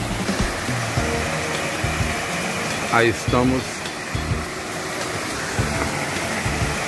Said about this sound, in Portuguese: Não sei se vai sair minha voz pelo barulho da cachoeira.